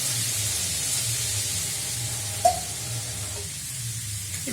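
Water poured into a pan of sautéing chicken produces a steady close hiss and sizzle, with one brief sharp clink midway before the frying settles down.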